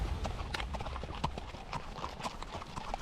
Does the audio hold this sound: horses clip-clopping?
yes